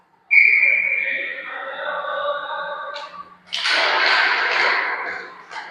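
A referee's whistle sounds at a face-off during a junior ice hockey game, a loud, sustained shrill blast lasting a couple of seconds, followed by broad rink and crowd noise.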